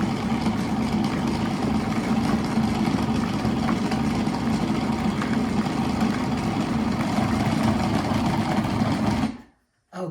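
A bread-dough mixing machine runs steadily and loudly with a continuous motor whir and churn, close by and alone, then cuts off abruptly near the end.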